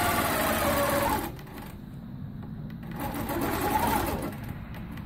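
A longarm quilting machine stitching in the ditch on a quilt row: a steady, close mechanical whir of rapid stitching that eases briefly in the middle, then picks back up.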